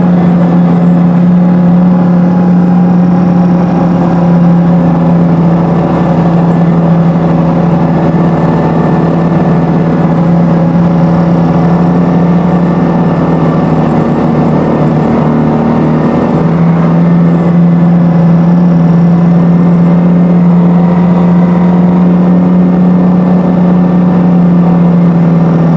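A car engine pulls steadily in first gear up a steep hill road near Karang Bolong in Kebumen, with a loud, constant low drone heard close from inside and no talking.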